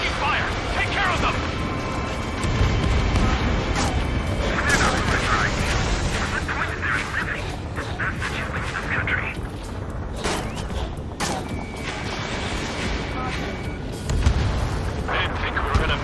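Dense, continuous gunfire and artillery booms from an aerial combat battle in Ace Combat 7: Skies Unknown, loud and sustained throughout with radio voices talking over the noise.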